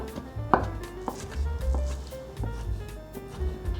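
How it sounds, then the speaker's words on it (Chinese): A knife finely chopping shiitake mushrooms on a board, a quick run of about a dozen close, crisp taps in an irregular rhythm with no talking. "换一个方向切碎"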